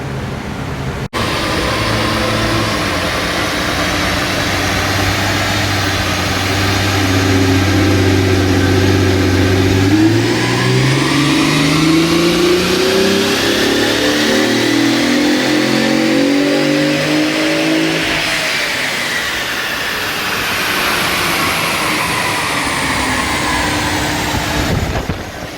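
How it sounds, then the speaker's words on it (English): A Holden VF SV6 with a 3.6 engine and an automatic transmission runs on a dyno, droning steadily, then climbing in pitch through a long sustained rev, dropping back, and rising again, loud and close throughout. "So we're just warming the car up now and we're going to do a baseline power run"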